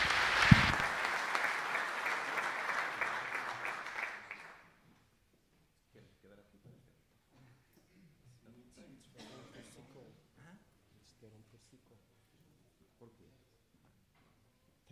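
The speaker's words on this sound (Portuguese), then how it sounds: "Uma salva de palmas para a organização" An audience at an international coaching clinic applauds the organizers, a loud, dense burst of clapping that lasts about four seconds and stops abruptly, followed by faint, sparse talking and small handling noises.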